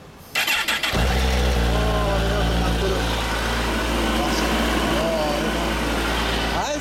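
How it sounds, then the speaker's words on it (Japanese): A North American-spec MV Agusta Stradale 800 motorcycle engine starts close by and settles into a loud, steady idle with a rumbling low tone that continues to the end. "エンジン音聞かせてもらえますか"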